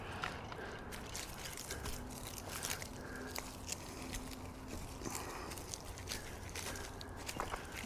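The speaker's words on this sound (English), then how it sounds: "I swear I still hear footsteps around here." Footsteps crunch along a rain-damaged dirt trail in the Santa Susana mountains, a steady run of close, soft steps over gravel with no talking.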